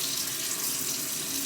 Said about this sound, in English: I'm going to wash my face real quick